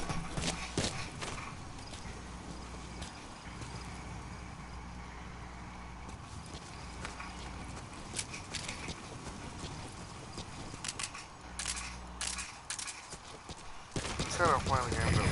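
Horse hooves clip-clop in a steady walking rhythm in the video game Metal Gear Solid V, mixed with game ambience and talk from players.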